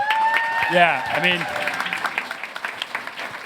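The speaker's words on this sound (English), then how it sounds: "could we give a round of applause?" An audience at a student celebration event breaks into a round of applause. A voice talks at the start, then scattered clapping builds into a steady patter over the last couple of seconds.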